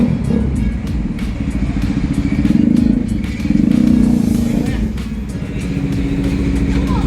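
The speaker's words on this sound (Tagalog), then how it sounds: "test drive siya to ensure na okay yung bike" A Bajaj RS200 motorcycle on a test ride after a frame slider install, its engine droning steadily and loud with rising and falling revs, wind and road noise mixed in.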